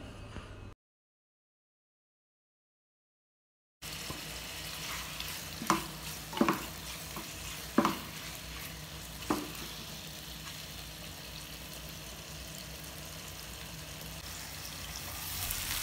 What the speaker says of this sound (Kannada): ಈ ಚಿಕನ್ നല്ല ಫ್ರೈ ಹಾಕಿ ತೆಡ್ಕ